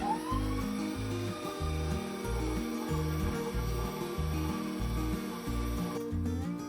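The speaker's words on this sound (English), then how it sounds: "Now we're going to run it through the grinder a second time with a finer plate." A meat grinder runs beef through a finer plate, its motor humming steadily and close while a rhythmic low chugging pulses beneath, ending with a slight change in tone.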